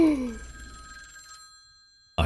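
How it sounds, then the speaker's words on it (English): A telephone bell rings in a quick electronic trill, starting loud and then holding as a thinner ringing tone that fades, with a sharp burst returning at the very end. No one speaks. "The phone's ringing."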